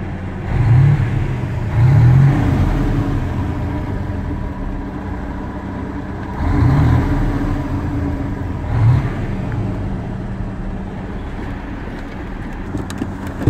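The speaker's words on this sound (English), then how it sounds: "I've tried revving the engine." A Sterling truck's engine revs in a few separate surges over a steady idle, loud and close, with no talking.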